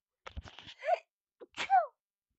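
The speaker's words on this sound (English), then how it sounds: "Uh-oh, I'm gonna sneeze." Two sneezes, each a quick gasping build-up followed by a sharp burst, close and isolated against silence.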